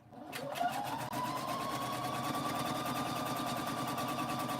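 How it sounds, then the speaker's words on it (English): A sewing machine chain stitches pieces of a pink baby quilt with a Silver Star pattern, starting up and then running in a fast, steady, even rattle close by. "And just chain stitching it"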